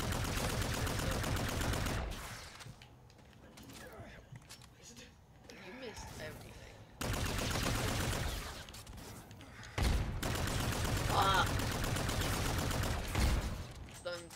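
Bursts of rapid gunfire from a Call of Duty video game, loud and dense, with people talking over it in between.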